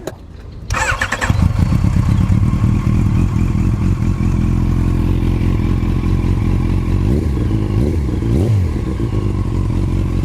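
A Yamaha FZ8 motorcycle with a Yoshimura exhaust starts with a brief crank, then settles into a loud close idle with two short throttle blips near the end, no talk.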